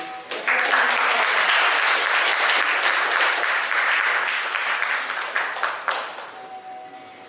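Audience applause for the percussionists of a go-go band at a community event, a loud, dense burst of clapping that swells in quickly, holds steady, then gradually thins out toward the end.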